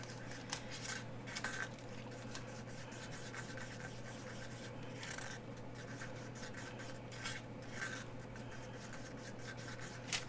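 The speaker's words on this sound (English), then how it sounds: "With these resin pastes, you definitely want to stir, stir, stir, stir, stir." A stick stirring resin paste around a plastic cup for a craft ornament, producing continuous quiet scraping and rubbing with irregular sharper scratches, close and faint, with no talking.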